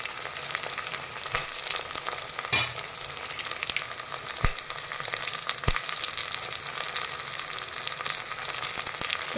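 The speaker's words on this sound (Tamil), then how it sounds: "பச்சை மிளகாய் போட்டு இப்போ வதக்க போகிறோம்." Green chilies sauté in hot oil in a pan for vegetable chickpea biryani, a steady close sizzle with a few sharp clicks of a spoon against the pan.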